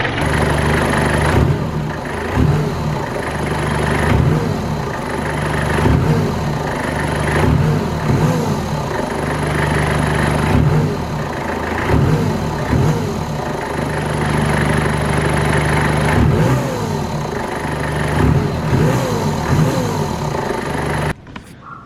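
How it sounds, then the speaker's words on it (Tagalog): Mitsubishi Pajero Fieldmaster with an upgraded open air intake, its engine idling loud and close and then revving repeatedly, a high turbo whistle rising with each rev. "Painitin ko lang yung engine and then let's do some couple revs"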